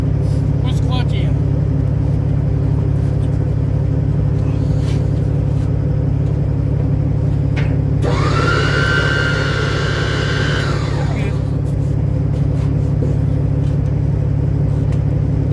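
A 1968 VW bus engine idles and runs with a steady low drone and hum, joined midway by a brief higher whine, while people talk faintly near the vehicle.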